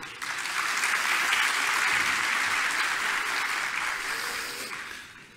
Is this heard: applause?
yes